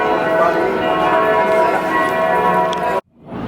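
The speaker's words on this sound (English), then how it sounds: "you can hear the bells." Church bells ringing in Frankfurt near the Zeil shopping area at midday, a steady metallic peal washing over a busy outdoor street ambience, moderately distant and continuous before a sudden break.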